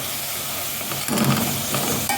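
Food sizzles and hisses in a hot pan, the sound swelling briefly as it is stirred, steady and close with no talking.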